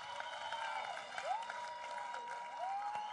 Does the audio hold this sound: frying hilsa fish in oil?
no